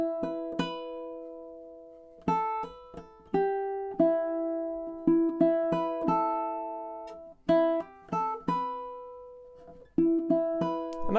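A high G ukulele plucks the bare melody line of Wayfaring Stranger with no harmony notes, single notes ringing out one after another at a slow, even pace, close and clear.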